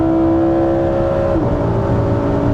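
A Lamborghini Huracan EVO with a naturally aspirated engine accelerates hard at high speed, a loud, steady engine roar with a rising tone and a brief dip as it shifts partway through.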